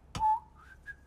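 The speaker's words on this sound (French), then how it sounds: "Le sifflement distinctif de Monsieur Mondo" A short whistled tune from a character rises in a few clear pitched notes, each preceded by a faint click, close and isolated.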